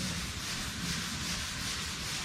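Hand sanding with stiff sandpaper on a car body, working around window edges; a steady, close rasping scrape continues without pause for the whole stretch, with no voices.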